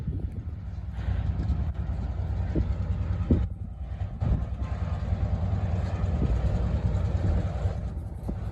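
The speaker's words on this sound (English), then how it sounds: "we got Buffalo and Pittsburgh crossing the bridge with only one engine" A Buffalo and Pittsburgh freight train pulled by a single locomotive rumbles across a bridge in a continuous heavy roll, with gusty wind battering the microphone and no voices.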